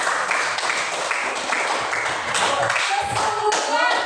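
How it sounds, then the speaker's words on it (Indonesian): A class of students clapping in a classroom, steady dense applause lasting several seconds, with a few voices rising faintly near the end. "Tepuk tangan."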